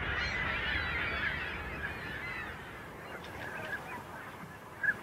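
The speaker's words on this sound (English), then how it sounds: "And back in the city along the Bull River, there's a lot of gulls" Gulls call along the Bull River in a city, their harsh squawking cries rising over a constant background hum, mostly at a distance, with one louder nearby call near the end.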